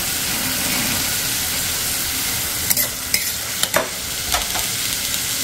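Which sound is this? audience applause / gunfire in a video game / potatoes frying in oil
potatoes frying in oil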